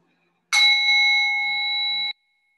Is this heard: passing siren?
no